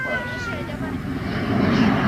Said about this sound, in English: The spotter aeroplane is always overhead in case of trouble.